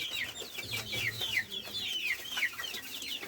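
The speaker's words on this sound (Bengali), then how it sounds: "দেখেন এই যে সব মুরগিগুলো আমার চারিদিকে রয়েছে" Chickens on a poultry farm cluck and chatter continuously all around, close by, in quick repeated bursts layered over one another.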